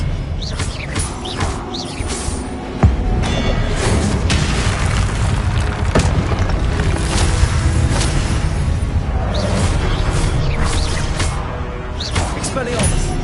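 Hogwarts Legacy duel where Expelliarmus and other spells are cast: repeated booming blasts and sharp bursts over a dense rumbling battle bed, with voices talking through it.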